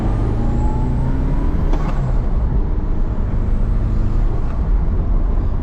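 A Nissan 240 car drives along with a steady, loud engine drone and road rumble heard from inside the cabin. The sound is continuous and unbroken, with no speech.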